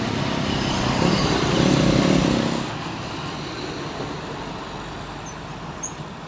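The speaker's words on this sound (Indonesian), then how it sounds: "Ini bus Bintang Utara tujuan Pekanbaru ya teman-teman." A Bintang Utara bus bound for Pekanbaru rolls past on a road in Tanjung Pura after flooding in Aceh Tamiang, its engine swelling loudly for a few seconds and then fading into steady roadside traffic noise.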